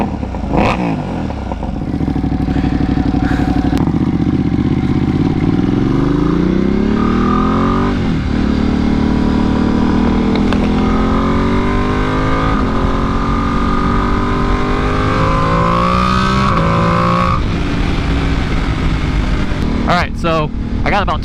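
A Ducati Panigale V2 motorcycle with the exhaust baffles in rumbles and revs through rising and falling engine pitches while riding, loud and continuous under wind noise, with a rider occasionally talking.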